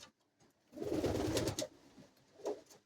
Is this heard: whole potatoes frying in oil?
no